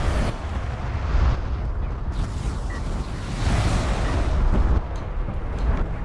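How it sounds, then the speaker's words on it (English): Artillery cruiser barrages exploding in the real-time strategy game Homeworld: Deserts of Kharak, a steady, heavy rumble of overlapping blasts rolling on without pause and swelling in places. "The barrages land and hurt cowofschmau's carrier quite a lot."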